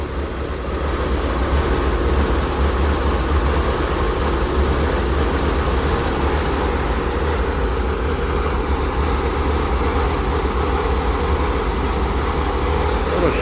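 A Chevrolet Corvair engine runs steadily after a new gas tank is fitted, a loud, constant idle with low rumble and slight shakiness, continuous from start to end.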